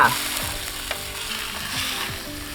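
Shrimp sizzle and crackle steadily in a hot pan, with a few clanks of stirring on the metal, loud and close, and no voices.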